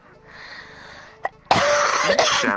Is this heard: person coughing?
yes